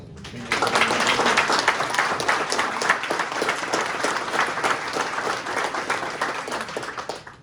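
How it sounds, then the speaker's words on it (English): Sustained audience applause fills a retirement ceremony for a Space Force senior master sergeant, starting after a brief pause and holding steady and fairly loud, a dense wash of many hands clapping. "Round of applause."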